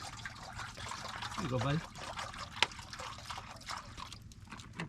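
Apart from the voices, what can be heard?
water poured out for a dog to drink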